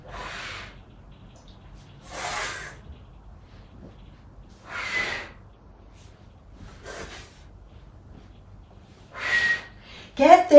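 Breath pushed in and out through the tongue during a kundalini yoga digestion kriya, heard as five breathy hissing exhales spaced a couple of seconds apart, close and moderately loud, with no talking.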